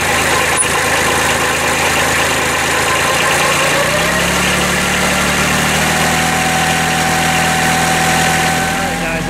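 A Kubota B7100 tractor engine runs steadily, driving a NorthStar PTO generator, with a constant loud idling drone and a slight shift in pitch partway through.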